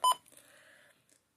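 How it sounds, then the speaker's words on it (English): A NOAA weather radio gives one sharp electronic button beep, followed by a faint short tonal trail and a tiny second blip, heard alone. "Button beeps."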